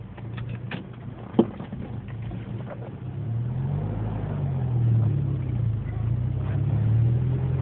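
A 1994 Mazda B2300 pickup rolling in neutral with a faulty howling noise, a low droning whine that swells and wavers over the engine rumble, with a single knock early on.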